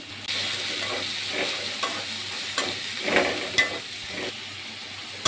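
Large cut prawns fry in a pan with spice paste, a steady close sizzle running throughout while a spatula stirs, scraping with a few sharper knocks against the pan.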